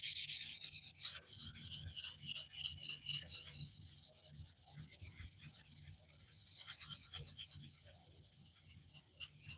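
Wet sanding by hand with 1200 grit automotive sandpaper in a slurry, a steady rhythmic rubbing rasp of quick back-and-forth strokes, close and fairly quiet, with no talking.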